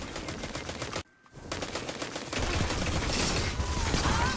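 Gunfire in the shooter game Destiny 2 during a player-versus-player match, a continuous burst of rapid shots with a brief gap of silence, then a louder, denser volley toward the end.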